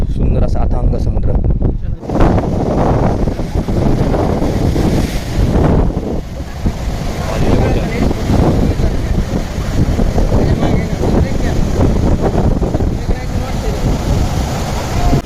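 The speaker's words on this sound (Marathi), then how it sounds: "तुम्ही बघू शकता की आज समुद्र खूप खवळलेला आहे" Rough, churning sea at Harihareshwar on the Konkan coast, heard as a loud, continuous roar of surf mixed with heavy wind buffeting the microphone, steady for the whole stretch without a break.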